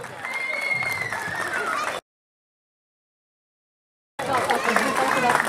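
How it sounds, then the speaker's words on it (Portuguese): A festival crowd at a Nossa Senhora da Luz celebration claps and cheers at an outdoor stage. The noise breaks off into two seconds of dead silence, then the applause returns with chatter. "Mais uma grande salva de palmas para a Comissão de Festas, pessoal."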